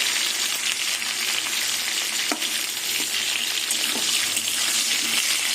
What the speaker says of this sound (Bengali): টমেটো আর আলু কিছুক্ষণ ভেজে নেবো টমেটোটা আমি একটু ভালো করেই ভেজে নেবো